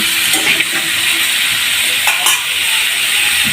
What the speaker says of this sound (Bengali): এবার আমি সমস্ত উপকরণ দিয়ে ভালোভাবে নাড়াচাড়া করে নিলাম।